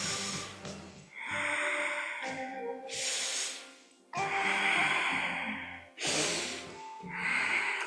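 Deep, audible inhalations through the nose during a yoga session, several long breaths repeated close up with short pauses between, no talking.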